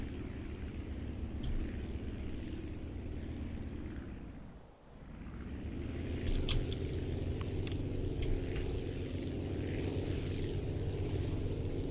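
Propeller airplane engine droning steadily during a full-runway takeoff roll in the Aviassembly video game, with a brief dip in the middle before the engine noise swells back, loud and continuous.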